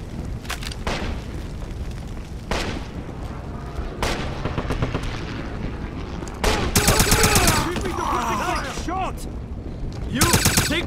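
Rapid gunfire fills a battle in the video game Wolfenstein: close bursts and single booming shots over a constant roar of combat, with soldiers shouting among the weapons fire.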